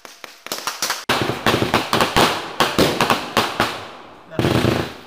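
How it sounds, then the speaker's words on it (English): Fireworks going off right behind a paintball player during a game, a rapid string of loud, sharp cracking bangs, several close together, with a brief pause before a final burst. "they set off fireworks right behind me."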